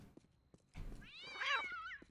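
A domestic cat gives a single drawn-out meow, rising and falling in pitch, close to the listener after a few soft thumps.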